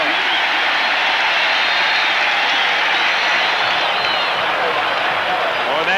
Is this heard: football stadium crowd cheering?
yes